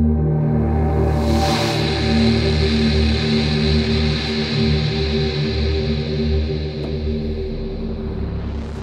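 A synth patch plays through a long, bright reverb set fully wet, followed by distortion. The sound is a dense, sustained, loud tone with a bright swell near the start, and it rings on without any speech.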